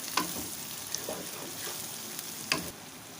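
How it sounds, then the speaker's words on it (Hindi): Tomatoes and green chillies frying with masala in a pan, a soft continuous sizzle broken by a few sharp spoon clinks against the metal. "अब हम इस मसाले को हरी मिर्चें और टमाटर के साथ अच्छी तरह भून लेंगे।"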